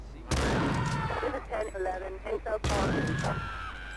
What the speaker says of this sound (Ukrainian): Стріляємо з дробаша.